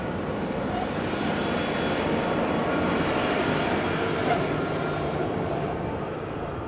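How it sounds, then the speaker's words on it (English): An Avanti Air de Havilland Dash 8-400 turboprop, 19 years old, arrives at Amsterdam Schiphol from London with a steady, moderately loud engine drone that stays even throughout, no talk heard. "Avanti Air, de Havilland Dash 8 400, 19 years old, first flight January 2004."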